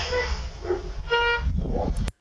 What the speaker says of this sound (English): The guy's dog gets left behind.